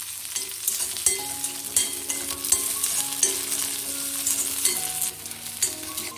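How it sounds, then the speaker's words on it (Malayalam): Chopped shallots, garlic and ginger fry in hot oil in a pan for rasam, giving a steady close sizzle with occasional stirring scrapes. "ചെറിയ ഉള്ളി അരിഞ്ഞ് അതും കൂടി ചേർക്കുക. നല്ലോണം വറക്കണം ഇത്."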